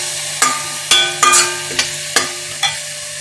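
Onions frying in a pan with a little salt, stirred in about six distinct scraping strokes at a steady pace over a soft continuous sizzle, close and loud, with no talking.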